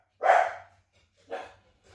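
A dog barks twice up close, a loud single bark followed by a softer second one, with a faint trailing yip at the end and quiet between.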